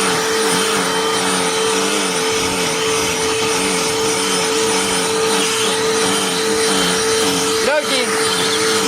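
A BLACK+DECKER Dustbuster AdvancedClean cordless handheld pet vacuum runs with a steady, loud whining drone close by, its pitch wavering slightly, with a brief bump near the end and faint talk beneath.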